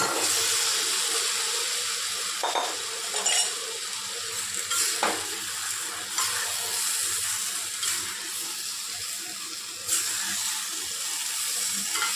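Fried potatoes and pointed gourd go into a pan of spice paste that has begun releasing oil, setting off a steady sizzle with occasional stirring scrapes and clinks, close and continuous with no talking.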